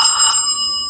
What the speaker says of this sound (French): Bon, c'est un son de téléphone.